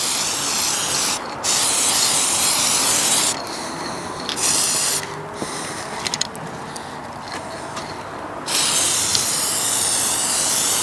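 Spray paint hisses in several bursts onto a car exhaust pipe, laid down as thin coats on a Land Rover Freelander 2 back box delete. The steady, close blasts last a few seconds each, with short quiet gaps between them.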